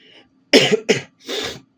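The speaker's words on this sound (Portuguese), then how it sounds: "Desculpa a tosse, gente" Three quick, harsh coughs close to the listener, the first two bunched together and the last slightly drawn out, with silence between.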